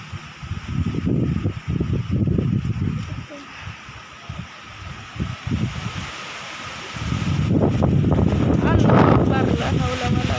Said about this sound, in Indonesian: Alah keras angin.